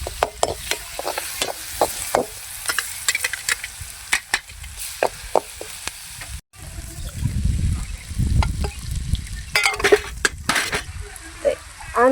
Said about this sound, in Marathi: आणि मिरची आणि लसणाचा ठेचा टाकते आता आणि हळद बी टाक.